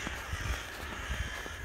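A large flock of crows cawing harshly while mobbing an owl, dense overlapping calls from many birds at a moderate distance, continuous and agitated.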